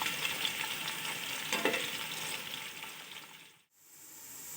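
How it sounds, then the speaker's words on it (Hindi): Two medium-sized onions sizzle slowly over a low flame for a Chinese chicken and vegetable pulao, a soft, steady frying hiss with light stirring, close by, fading out briefly near the end before the sizzle returns. "और अब इसको हम हल्की आंच पर आहिस्ता आहिस्ता फ्राई करेंगे।"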